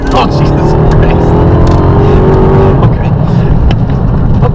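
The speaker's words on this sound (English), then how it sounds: "nothing but wheel spin in the beginning, but that's obviously because it's a Hellcat and it has 707 horsepower" A 2016 Dodge Charger Hellcat with 707 horsepower launches hard with wheel spin; a loud, close engine roar rises in pitch, then cuts off, with excited voices over it.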